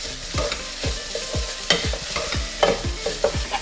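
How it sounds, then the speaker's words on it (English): Garlic, ginger and chili sizzle in a hot pan while a utensil stirs them in repeated scraping strokes, close and crisp with no voices. "it's in with the garlic, ginger, and chili. Give that a little stir"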